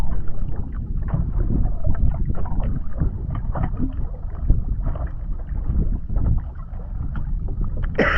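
A boat motor runs steadily and loudly over water, with a continuous churning rumble and splashing throughout.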